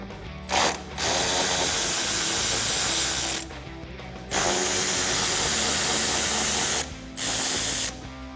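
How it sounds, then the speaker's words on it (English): A ratchet wrench loosens two 8mm bolts inside a Jeep Wrangler JL wheel well. It makes loud, close, rapid clicking in one short burst and three longer runs, with brief pauses between them and no talking. "Now you can repeat that process in your wheel well on the other side, starting by removing these 2 8mm bolts."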